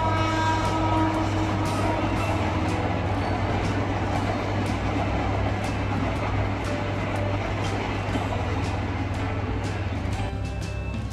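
A train rumbles past with a steady low drone and rhythmic clacking of wheels over rail joints, continuous and fairly close throughout.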